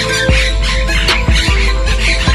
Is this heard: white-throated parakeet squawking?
yes